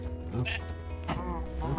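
Sheep from Minecraft bleat in short wavering calls, two or three close by, under a steady backing of talk and game sound.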